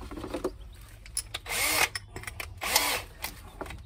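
A power drill bores pilot holes for a catch on a narrowboat, with two sustained whirring bursts between quieter clicks and handling noises, close by and without talk.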